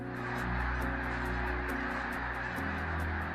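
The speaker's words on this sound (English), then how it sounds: "Tentar localizar determinado ganso das neves entre centenas de milhares exige muita" A dense flock of snow geese honking during migration on the St. Lawrence River, many overlapping calls in a continuous loud chorus with individual honks standing out near and far.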